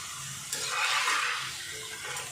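Karasev dough frying in hot oil: a continuous soft sizzling hiss that swells briefly as the oil is stirred, close and with no talking.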